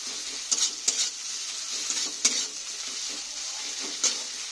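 Chopped tomato fries in a pan after ginger-garlic paste for a soybean curry, a steady close sizzle broken by several sharp spoon-against-pan scrapes as it is stirred, with no talking.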